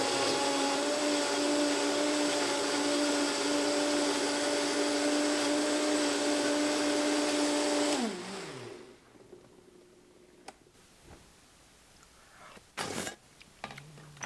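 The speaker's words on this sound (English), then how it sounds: "You want to make sure that everything, remember, is super blended. So you may have to do this once or twice just to make sure that everything's blended down." A blender whirs loudly and steadily while blending green smoothie ingredients, then winds down and stops, followed by quieter kitchen clatter and a couple of sharp knocks.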